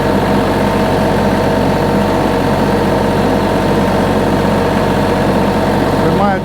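A yellow tractor with forks idles in a steady, loud, continuous low drone, holding even throughout without breaks.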